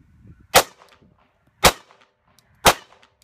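Three sharp, loud gunshots strike a cheap rubber dummy in the belly, evenly spaced about a second apart, each a crisp crack with a short ringing tail and near silence between.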